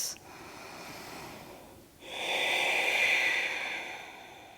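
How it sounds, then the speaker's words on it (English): Deep, steady breathing during a yoga practice, close and airy, with a sustained breath, a short pause, then a longer, louder rushing breath that fades out. "Deep, steady breaths."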